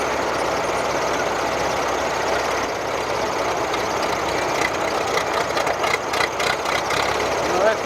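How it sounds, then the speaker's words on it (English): A big Ford V8 engine runs steadily at an outdoor tractor show, a loud rumbling idle holding throughout while voices murmur over it. "Another big V8, Ford V8 over there."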